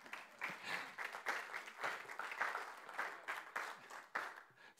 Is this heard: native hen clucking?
no